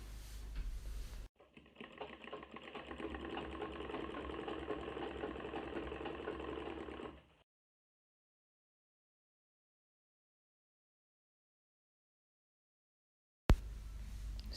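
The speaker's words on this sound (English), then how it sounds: "So now I'm just going to sew it down." A sewing machine runs in one steady whirring burst for about six seconds while stitching down fabric for an agbada bubu dress with pleating. It then stops into near silence before a sudden knock near the end.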